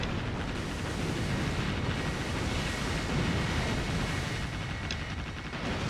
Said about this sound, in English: Oh my god, it's firing missiles, it's firing lasers.